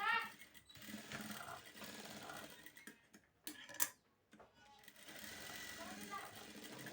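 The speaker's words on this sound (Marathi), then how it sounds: "इथं शोल्डरला दोन टिपा मारून घ्यायच्या" A sewing machine runs close by, stitching the shoulder seam of a traditional parkar polka skirt-and-blouse outfit in quick rhythmic bursts with brief pauses, while a voice talks over it.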